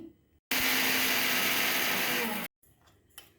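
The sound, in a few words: mixer grinder grinding rasam powder spices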